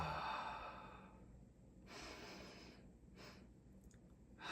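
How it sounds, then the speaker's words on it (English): A person breathes in deeply through the nose, then lets out an audible, airy exhale through the mouth, followed by softer short breaths, close and quiet with no talk. "we're going to take 2 inhales through our nose only, and we're going to create an audible exhale out of our mouth"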